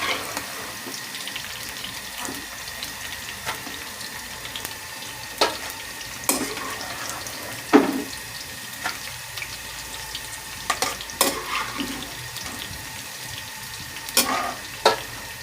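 Okra frying in hot oil in a kitchen pan, a low steady sizzle with scattered crackles and pops over about fifteen seconds, with no talk.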